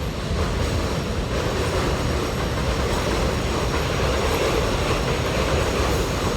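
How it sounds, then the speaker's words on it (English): A train rumbles past on its rails in a steady, loud roar with faint clattering of wheels, heard close and without voices. "Listen, train, we gonna move."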